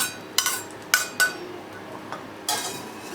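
Metal utensils clink and knock against a pot several times in short separate strikes, as dal dhokli pieces go into the dal, over a quiet background with no voices.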